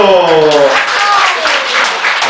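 A group at a Buddhist temple gathering bursts into applause right after a short shouted cheer. The clapping is dense and steady and lasts about two seconds.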